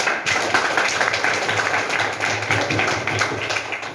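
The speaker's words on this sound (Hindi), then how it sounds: "इस बात के लिए जोरदार ताली बजाइए।" Loud, sustained applause from a seminar audience at a college in Maharajganj, a dense steady wash of many clapping hands lasting the whole stretch.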